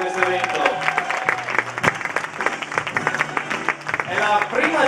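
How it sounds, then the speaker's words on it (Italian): Applause from the audience opening the Castelbrando Cup 2012 dance competition, scattered clapping mixed with music in the background and some crowd noise throughout. "Facciamo un bel applauso per iniziare questo evento."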